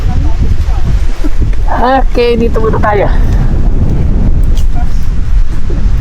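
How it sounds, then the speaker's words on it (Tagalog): Strong wind on a hilltop near Daang Katutubo in Agno, Pangasinan buffets the microphone with a continuous low rumble, while someone speaks briefly over it. "Kaso lang mahangin."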